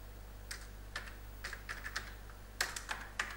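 Keys clacking on a computer keyboard while a command is entered, a few quick bursts of close, crisp taps with short pauses between them over a steady low hum.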